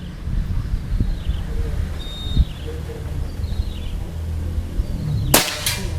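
A single sharp air gun shot from a prototype Pajero slug barrel, fired at a 50-meter range, cracks out near the end over steady outdoor background noise with faint birds in the distance.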